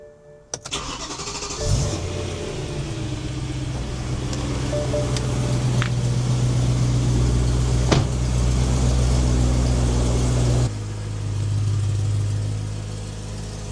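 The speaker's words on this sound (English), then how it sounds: "I'm going to start the car, check for exhaust leaks" A BMW E90 M3 engine cranks and fires, settling into a loud, close, rumbling idle with a deep steady drone that drops slightly near the end.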